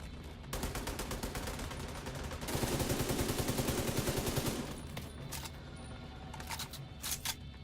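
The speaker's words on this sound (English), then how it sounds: "I love my infinite ammo pistol" Rapid pistol gunfire from an Apex Legends match, a fast string of sharp close shots in bursts that build into dense sustained firing, then trail off into a few scattered reports.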